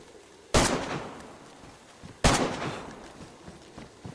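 Two loud, close AK rifle shots ring out in a shooter video game, spaced about two seconds apart, each one a sharp burst followed by a decaying echo.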